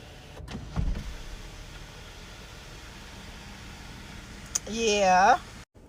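A car sunroof motor runs for about a second with a rising electric whine near the end, after a few faint clicks and handling noises inside a quiet car cabin.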